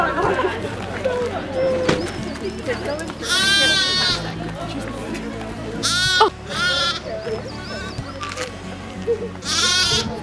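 Sheep on a Highland sheep farm bleat loudly several times in wavering cries, close by, with people chattering softly in the background.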